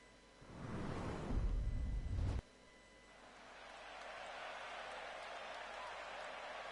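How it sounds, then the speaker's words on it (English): Arena crowd noise in a WrestleMania wrestling video game: a loud rumbling surge that cuts off abruptly, then a broad crowd roar rising gradually and holding steady in the background. "the crowd erupting to the music of the challengers"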